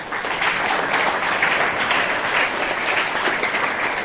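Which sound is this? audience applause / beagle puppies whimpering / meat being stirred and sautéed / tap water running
audience applause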